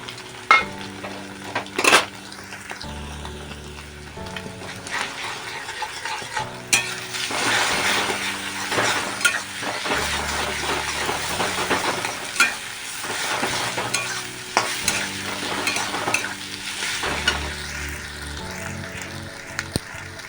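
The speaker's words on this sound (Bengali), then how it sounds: "এখন আমি যে ডিমটা ফেটিয়ে রেখেছিলাম একটু লবণ আর গোলমরিচ দিয়ে, এটা আবার এই যে আলুর মাঝখানটা একটু ফাঁকা করে কড়াইতে ঢেলে দিলাম।" Beaten egg seasoned with salt and pepper poured into the middle of potatoes in a wok, sizzling steadily with intermittent stirring scrapes and metallic knocks close by, while a tonal background plays throughout.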